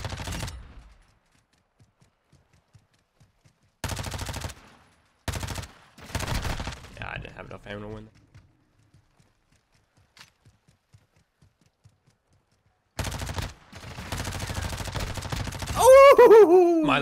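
Rapid bursts of automatic gunfire from a Call of Duty match, a full magazine emptied in several sharp volleys separated by quiet gaps, with a voice and other game sounds entering near the end.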